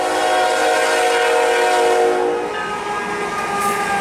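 CN freight train Q196, led by locomotive 3855 at Sheldon, blasts a long, loud sustained horn chord at close range as it passes, with rail noise running steadily underneath.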